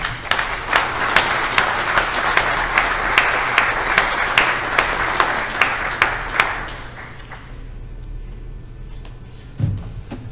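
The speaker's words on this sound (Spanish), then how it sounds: "recibamos con un fuerte aplauso al doctor Raimundo Padilla Lozoya" An audience at a talk on the history of risk management applauds as Dr. Raimundo Padilla Lozoya is welcomed. Loud, dense clapping with sharp individual claps fades out after about seven seconds, leaving a low steady hum and a brief bump near the end.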